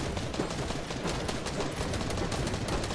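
Dense, continuous video game gunfire, a steady roar of rapid shots close up and loud, with no pauses through the stretch.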